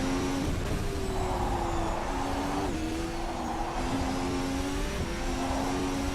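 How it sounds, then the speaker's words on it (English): A 2018 Formula 1 race car in rFactor 2 at the Salzburgring brakes hard, its steady, loud, close engine whine dropping in pitch in distinct steps as it downshifts through the gears, with no talking. "Braking hard down to the third."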